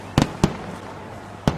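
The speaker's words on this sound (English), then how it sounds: "Fireworks! Fireworks! Fireworks!" Fireworks burst outside a home garden: three sharp, loud bangs, two in quick succession and a third a second later, over a quiet background.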